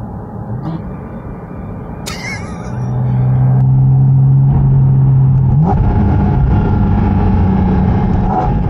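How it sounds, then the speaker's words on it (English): A Porsche Cayman GT4 RS with a PDK gearbox, cruising in fifth, is dropped two gears in manual mode as fast as possible: steady engine drone, then a sharp blip and louder, higher revving that holds close by. "I'm gonna put it in manual, and I'm gonna, as fast as I can, downshift 2 gears."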